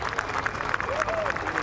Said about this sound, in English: He would have loved that sound as he was coming around the corner, that clapping getting louder and louder.